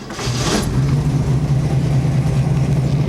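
A classic Mustang's engine catches and settles into a steady, loud idle, a low rumbling hum that holds evenly throughout.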